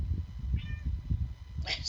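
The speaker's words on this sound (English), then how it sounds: "There's a cat." A cat meows in the video game Chrono Trigger, a brief harmonic call in the middle of the clip, heard under ongoing game music and a player talking, with a brighter burst of sound near the end.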